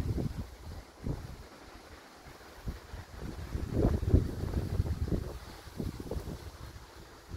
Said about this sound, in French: J'espère que ça va pas trop s'entendre le vent